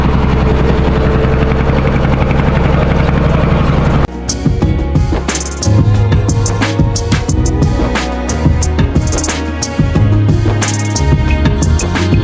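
A boat engine runs loud and steady as the boat departs from a river landing near Talatoli, joined after a few seconds by clattering knocks and rumbling thuds over the continuous drone.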